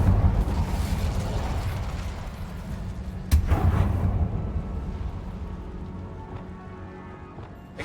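A fiery spell effect from the video game Hogwarts Legacy: a rumbling, crackling burst with a sharp pop partway through, then a fading roar and faint clicking mechanisms as it dies away.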